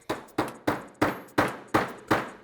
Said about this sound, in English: reinstall it into the frame using the brass side of the hammer and laying the pistol flat on the workbench. And drive that in most of the way